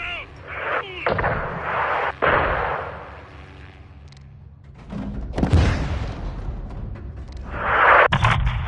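In the shooter game Call of Duty Modern Warfare 3, heavy artillery blasts and gunshots boom in separate loud impacts with rumbling tails, several sharp cracks and deep thuds spread across a battlefield, with no talk.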